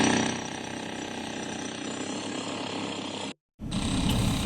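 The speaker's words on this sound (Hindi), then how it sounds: "अवैध मदरसे को हैमर हथौड़े से तोड़ा गया।" A powered hammer breaks apart an illegal madrasa building put up on a pond: loud, continuous rattling and pounding with a grinding mechanical edge, which cuts out abruptly for a moment near the end before resuming.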